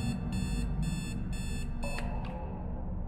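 An alarm clock in the horror game Trapped rings loudly in steady repeated electronic beep bursts over a dense droning background, the pattern breaking off near the end.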